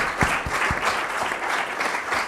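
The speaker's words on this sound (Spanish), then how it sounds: "Yo creo que esa gente sí que se merece un aplauso" An audience breaks into applause, a dense, fairly close patter of many hands clapping steadily for a couple of seconds, with a few sharper individual claps standing out near the start.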